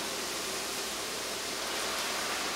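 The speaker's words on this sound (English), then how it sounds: "You put the broth in," Broth poured over Brussels sprouts and bacon in a pan, a steady close hiss of liquid splashing that runs evenly throughout.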